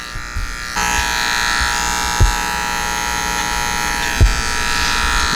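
A Wahl Fast Feed hair clipper buzzes steadily and loudly during a haircut, a constant electric hum broken by two brief bumps as it touches the head.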